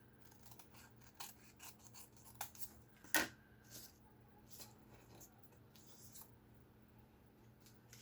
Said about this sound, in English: I just take my scissors to trim off the excess.